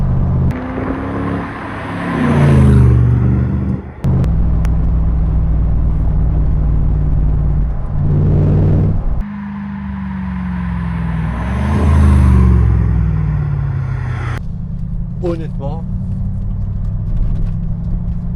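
A 2016 Morgan Aero 8 Roadster on the move gives a loud, close engine rumble that swells and eases as it accelerates and shifts, with a single spoken word near the end.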